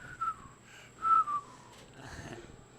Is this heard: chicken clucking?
no